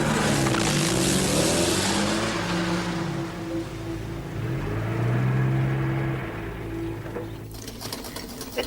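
A car engine hums and drones steadily from inside while being driven, its pitch rising and falling with gear changes before easing off near the end.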